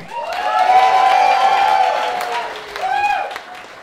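An audience at a live comedy screening event cheers and claps loudly and continuously, with whoops rising over the crowd, then a second swell of cheering.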